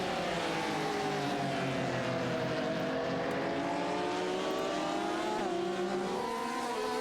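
Race cars roar past on a circuit during a three-car battle for the lead, a loud continuous engine drone whose pitch rises and falls as the cars pass and shift.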